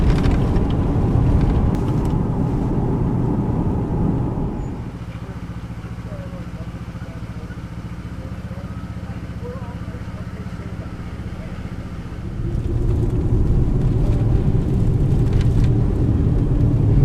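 An SUV driving along a road gives a steady engine and road rumble that drops quieter in the middle, then swells back to full loudness near the end.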